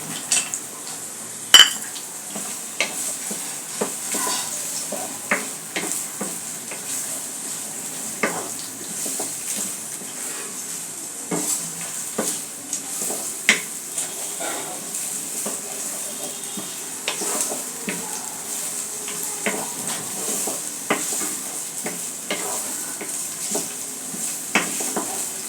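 Whole garam masala of bay leaf, cardamom and cinnamon frying in oil with softened onions, a soft sizzle and hiss under frequent clinks and scrapes of a utensil against the pan, close and alone.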